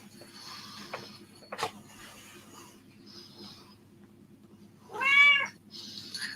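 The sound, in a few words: cat meowing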